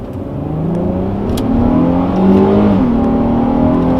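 Engine of a sports car with a powerful motor pulls hard under acceleration, the pitch rising steadily, dipping briefly at a gear change, then climbing again, loud and close with no talk.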